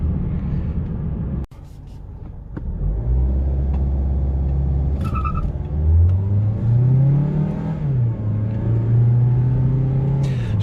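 A Mazda CX-3 crossover with a 150 hp four-cylinder engine accelerates, its rumble rising and falling in pitch through several gear pulls, fairly close and steady with a brief dip early on, no talk over it.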